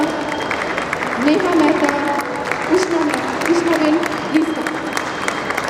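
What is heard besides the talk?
audience applause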